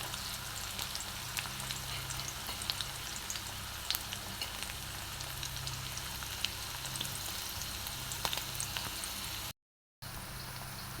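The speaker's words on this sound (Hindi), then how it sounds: "लहसुन डाल देंगे अभी।" Garlic frying in a pan in a home kitchen, a steady soft sizzle with tiny crackles and pops running throughout at moderate distance, cutting out briefly near the end before resuming.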